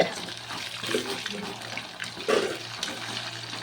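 Chilli chicken frying in hot oil gives a rough, continuous sizzle with louder bubbling bursts, close-up, with a low background hum.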